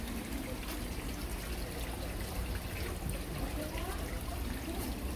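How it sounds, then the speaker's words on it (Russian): Steady, soft trickling of a decorative water fountain at a flower market in Seoul, continuous gentle splashing with faint ambient background. "Но я не представляю постоянно звучание воды в доме."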